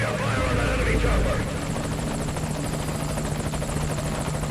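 Helicopter in the Metal Gear Solid V game, a loud steady rotor drone with a low throbbing beat that stays close throughout, with a brief swell near the start.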